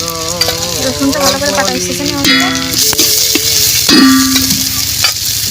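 Vegetables fry in mustard oil in a pan, giving a steady sizzle with some stirring throughout. A person talks over the frying.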